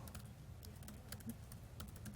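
Typing on a computer keyboard during a live coding demo, a quiet run of irregular key clicks in short bursts, faint and close, over low background hum.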